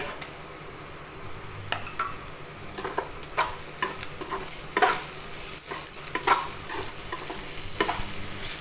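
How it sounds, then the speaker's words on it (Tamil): Okra masala being sautéed and stirred in a pan for a thick South Indian okra relish, with a steady background sizzle broken by repeated scraping spoon strokes against the pan, close and moderately loud, with no talking. "இப்போ நான் கொஞ்சம் டார்க்காக வேணும்ன்ட்டு நான் வதக்கிட்டுருக்கேன்"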